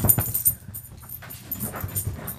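A dog whimpers and pants close by, short soft breathy puffs and faint high whines in an uneven rhythm, with quiet gaps between bursts.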